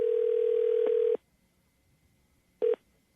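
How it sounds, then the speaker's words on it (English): Ringback tone on an outgoing telephone call, with one long tone cut off and then a brief second burst after a pause, fairly quiet and without voices. "hang on, it's ringing"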